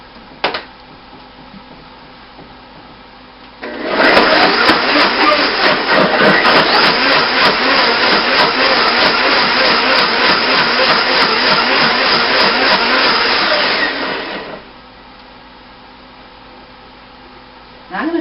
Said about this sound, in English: Just put it all in a blender.